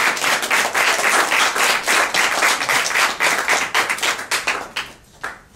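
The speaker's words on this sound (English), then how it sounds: "let's give a nice round of applause for Mari Perron" An audience at an evening event with Mari Perron claps steadily in a dense, loud round of applause, tapering off near the end with a few scattered claps.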